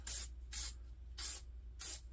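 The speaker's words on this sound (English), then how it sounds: "I like to take my follower and I spray it with a squirt of one shot" Four short bursts of One Shot lubricant spray hit a shotgun magazine spring and follower from a Remington 1100, each hiss lasting about a quarter second at a steady rhythm, close and clear over a low background hum.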